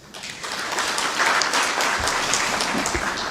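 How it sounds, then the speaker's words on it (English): Warm applause from an audience at a formal diplomatic commission session, a steady dense wash of clapping that swells in and holds at moderate loudness for a few seconds. "Another warm applause."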